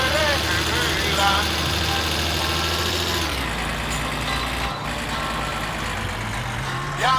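A vehicle engine approaching from behind rumbles loudly and continuously close by, its tone shifting partway through, with a dense, rough mechanical texture throughout.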